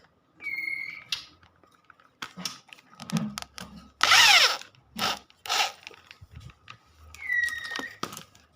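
A power drill drives bolts while a fish-shocker unit is assembled, whirring in about eight short, loud bursts of varying length with brief pauses and small handling noises between them.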